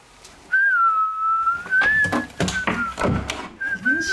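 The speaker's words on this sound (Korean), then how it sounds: "문 닫고 휘파람 떠셨잖아요" A person whistles behind a closed door during a ghost-hunting visit to a supposedly haunted house: a long, wavering tune that is fairly clear and loud, broken by thumps and knocks, with a short whistle again at the end.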